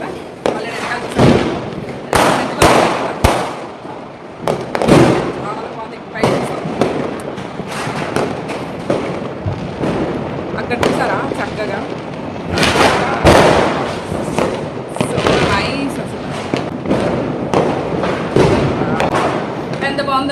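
Diwali firecrackers bursting outside a home and office, a run of sharp loud bangs and thuds, some close together and some spaced apart, with people talking in between and underneath the blasts.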